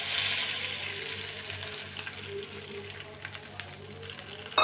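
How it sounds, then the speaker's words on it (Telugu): Hot tempering with curry leaves and turmeric poured into a tomato and coriander chutney, a bright sizzle that bursts loud at first and slowly fades, close up with no talking. "ఇప్పుడు మనం ఈ చట్నీలో తాలింపు పోసుకోవడం"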